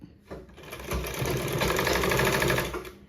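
A sewing machine stitches a cross piece onto a blouse neck, running as a steady, close mechanical whir for about three seconds after a short start, with no talk.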